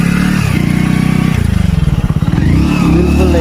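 A motorcycle engine chugs loudly and close by on a muddy road, its rapid putter rising and falling as the rider revs through the mud.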